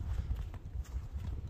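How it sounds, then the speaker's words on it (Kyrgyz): Hooves of a purebred Kyrgyz Karabair horse clip-clop in a steady, close rhythm, loud and continuous across the short stretch with no talk over them. "Кыргыз жылкысы"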